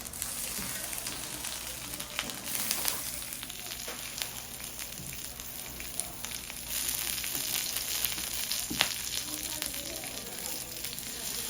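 Korean savory pancakes (buchimgae) fry on a griddle at a cold-weather market stall in Pyeongchang, giving a steady, moderately quiet sizzle with broadband crackle throughout and a faint steady tone above it.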